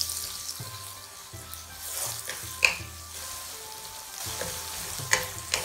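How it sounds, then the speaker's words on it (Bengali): Onion, garlic and ginger frying in a pan for Bangladeshi shrimp polao, a steady close sizzle with a few sharp crackles and light clatter, no voices. "দিয়ে ভালো করে ফ্রাই করব।"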